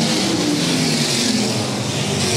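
A USAC Silver Crown race car at the Du Quoin State Fairgrounds accelerates hard out of a turn, its engine a loud, dense, sustained roar that holds steady throughout with no pauses.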